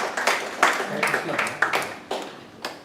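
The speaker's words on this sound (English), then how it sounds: "A round of applause for" Scattered audience clapping at a certificate distribution during a medical institute workshop, a handful of distinct claps spread across the moment, moderately loud and fairly close, with no speech over it.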